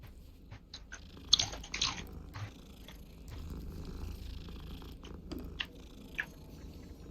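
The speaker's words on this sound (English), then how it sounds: "Oh, these are the cats you're petting." A cat purring steadily while being petted in Hogwarts Legacy, a soft continuous rumble with a few brief crunchy bursts over a low background, no talking.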